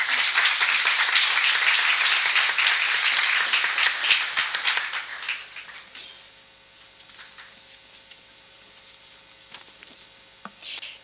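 A university conference audience at a migration, violence and education panel breaks into dense clapping that fills the room for several seconds, then thins to scattered claps and quiet room noise.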